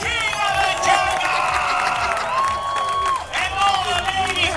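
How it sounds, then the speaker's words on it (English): A crowd at a hairy chest contest claps and cheers loudly and steadily, with shouts and whoops rising above the applause while an announcer's amplified voice carries over the noise. "Once again, pull your hands together for the King of the Jungle!"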